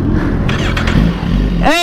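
A Suzuki GSXR 1000 motorcycle engine drones loudly and close at the track, with a rising rev at the end, under a voice.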